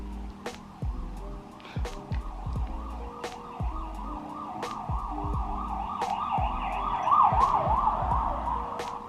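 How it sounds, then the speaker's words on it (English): Ambulance siren wailing outside in a steady up-and-down sweep, growing louder toward the end as it passes, with intermittent thumps and knocks closer by. "And now we've already got ambulances."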